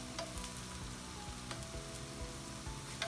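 Marinated tempeh sizzles steadily in a hot frying pan, with occasional scraping and soft clacks as pieces are flipped; a continuous close crackle with no talk.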